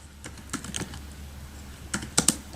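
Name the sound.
typing a command on a computer keyboard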